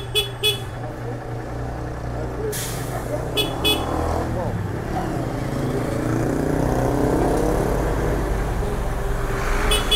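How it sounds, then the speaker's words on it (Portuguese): A delivery motorcycle's horn gives a few short toots amid street traffic, with people talking during the ride. "Dá uma buzinada aí."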